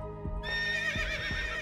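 Horse neighing in the Princess Peach: Showtime! video game, a whinny with a clear tonal cry, then several heavy hoof clops spaced out across the moment, close and loud over a steady musical backdrop.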